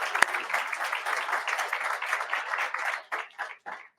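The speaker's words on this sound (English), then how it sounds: "Let's give that a round of applause." A large audience at an AUSA conference bursts into sustained applause, dense clapping that holds steady for a few seconds before thinning into scattered claps.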